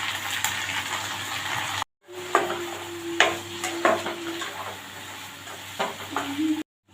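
Sliced vegetables frying in mustard oil with onion and green chillies in a pan, a steady sizzle broken by scraping stirs and clinks, with a short cut of silence near the start and end.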